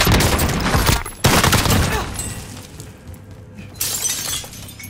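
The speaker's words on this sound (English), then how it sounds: "broke his armor, broke his armor" Shattering, glassy breaking bursts mixed with gunfire in Call of Duty Modern Warfare as enemy armor breaks, with two sharp loud hits followed by quieter crackling.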